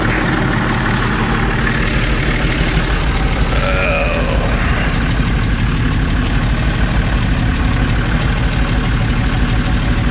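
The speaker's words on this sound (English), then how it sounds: "That wasn't too colossal a cold start." A vehicle engine idles steadily after a cold start on an engine that had been plugged in, giving a continuous low rumble with a faint mechanical whir, close and even throughout.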